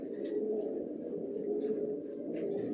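Pigeons in a loft give soft, continuous, low cooing, close and moderately quiet, with faint overlapping calls.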